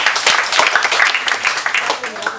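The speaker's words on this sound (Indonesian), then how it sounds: "Tepuk tangan." A brief burst of clapping comes from a church congregation during a sermon session on salt, dense and fairly loud for a couple of seconds.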